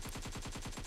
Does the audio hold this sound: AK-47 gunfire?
yes